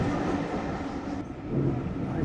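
A train runs along the River Esk near Whitby, heard from inside a carriage as a continuous rumbling rattle of wheels on track at moderate volume, with no speech during the moment.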